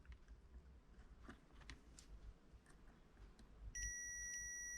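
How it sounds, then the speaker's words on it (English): A short electronic beep from a launch control activation button installed in an Audi S2 car sounds near the end, a clear high tone following quiet clicks and fumbling. "I should get a beep here."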